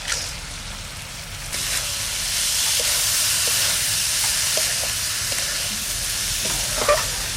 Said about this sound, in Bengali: এবার এর মধ্যে চিংড়ি মাছগুলো দিয়ে দেবো। ওই ভেজানো চালটা যেটা জল ঝরিয়ে রেখেছিলাম সেটা দিয়ে দিলাম।